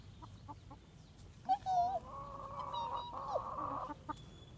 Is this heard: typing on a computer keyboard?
no